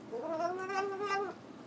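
A house cat meows in one drawn-out, rising and falling call, close and fairly loud, with no talking over it.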